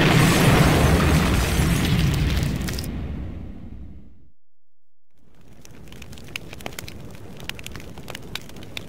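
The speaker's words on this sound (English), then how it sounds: "everything's going to explode!" A big explosion in the Diabolik: The Original Sin video game roars loud and close for a few seconds, fades into a brief hush, then gives way to scattered crackling debris.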